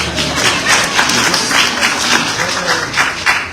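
Church audience at a university graduate recognition ceremony clapping steadily throughout, a dense wash of many hands at moderate loudness with slight swells.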